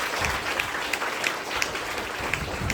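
Sustained applause from a crowd at an indoor training event in a venue hall, dense steady clapping with a few sharper claps standing out, filling the whole stretch.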